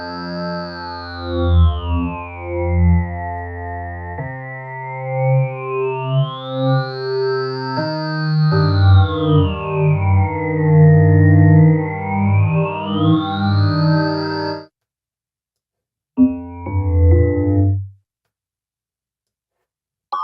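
A microKorg synthesizer plays a sustained buzzy tone with its pulse width swept by an LFO, so the timbre rises and falls in slow waves while the notes change. It stops, then a short final note sounds, loud and alone.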